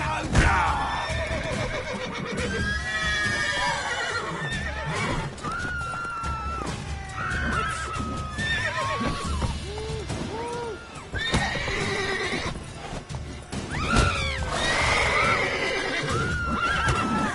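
Horses neighing and whinnying repeatedly, loud and close, with shrill rising and falling calls over hoof clatter and scuffling throughout.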